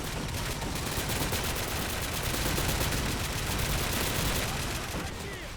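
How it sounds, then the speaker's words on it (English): Heavy sustained gunfire in a Call of Duty: World War 3 mod line-defense battle, dense overlapping rifle and machine-gun bursts with mortar-like booms, loud and continuous from start to finish without a break. "Full fire now from the US center defense."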